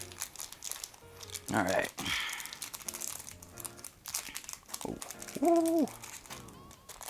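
Yu-Gi-Oh Speed Duel booster pack wrappers crinkle and tear in close, bursty handling, with a couple of louder rips and short spoken exclamations between them.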